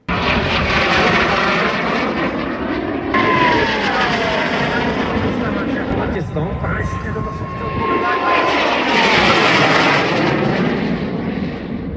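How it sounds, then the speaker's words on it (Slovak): An Aero L-29 Delfín jet passes at an air show, a loud sustained jet roar with a whining tone that sweeps in pitch as it flies by and fades, then swells again on another pass. "Na úvod priletel delfín"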